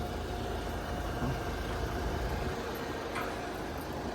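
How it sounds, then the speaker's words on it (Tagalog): A 2014 Hyundai Santa Fe diesel engine idles with a steady, continuous low rumble heard close up in the engine bay, with no talking. "Ganda ng timing ng makina nito."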